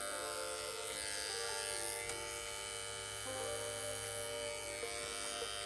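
A tattoo machine runs at raised voltage during mag shading, a steady close electric buzz with shifting tonal whine and faint hum underneath, continuous and unbroken with no talking.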